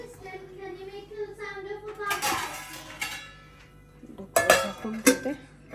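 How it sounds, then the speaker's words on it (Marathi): Pots and dishes being washed by hand in a home kitchen: scattered metallic clinks and scraping knocks of steel vessels, some sharp and loud, with a person talking over the work. "इकडे भांडे पण पडलेत तर भांडे घासता घासता माझं चालू आहे"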